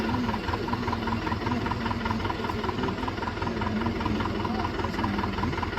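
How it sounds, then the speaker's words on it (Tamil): A tractor engine idles with a steady, continuous rumble and even mechanical throb, close and fairly loud throughout, with no pauses or changes in pace. "இப்போ அந்த டிராக்டர் நம்ம எடுத்து பாருங்க."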